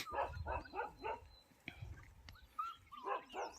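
Bhutia dogs bark repeatedly in a valley at morning, a cluster of loud close barks, a pause with a stray yelp, then another burst of barking.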